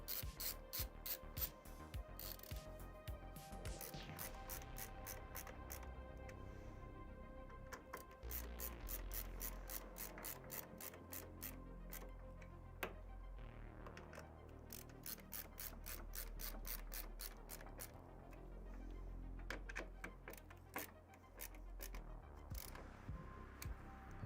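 Screws being tightened with a ratcheting driver while building a PC in an NZXT H5 Flow case, steady runs of fine clicks repeating in bursts with brief pauses, faint and close, no talking.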